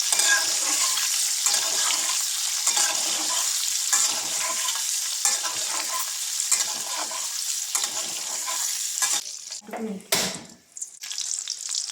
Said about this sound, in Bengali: ডিমগুলো ভাজা হয়ে গেছে, বেশি ভাজার দরকার নেই, মিডিয়াম ভেজে নিলে হবে।